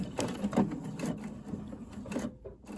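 A sewing machine stitches backwards in short reverse stitches while sewing a welt pocket, a quiet mechanical whir and clatter running steadily for a few seconds.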